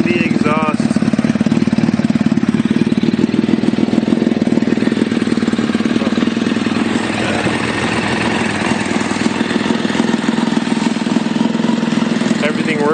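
A motorcycle fitted with a B&B exhaust and 38,000 miles on it idles steadily with a low, even rumble that runs unbroken throughout, loud and close, while faint voices sit beneath it.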